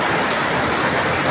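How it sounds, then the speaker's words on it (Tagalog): Heavy rain pours steadily outdoors near a parked van, tricycle and covered motorbike, a dense, continuous hiss with no pauses and no voices. "grabe ang ulan"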